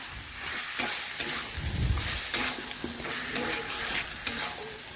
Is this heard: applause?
no